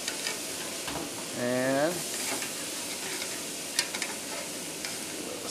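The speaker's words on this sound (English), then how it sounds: "nice sear, get the nice black lines" London broil steak seasoned with coarse black pepper sears on a grill, a steady close sizzle running throughout, with a brief voice and a few light clicks from handling the meat.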